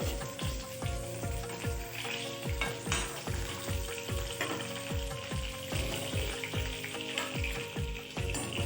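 Katla fish pieces frying in oil: a continuous sizzle runs throughout under a steady beat of low rhythmic thumps and tonal background music, moderately quiet, with no talk.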